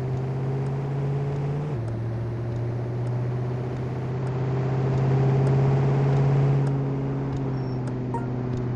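A truck engine in the PS5 video game Truck & Logistics, a steady droning hum with a gear-like pitch drop early on, then a sustained even tone as the truck drives during a convoy event.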